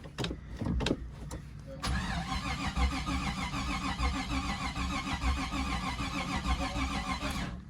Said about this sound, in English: Here, come give it gas and I'll crank it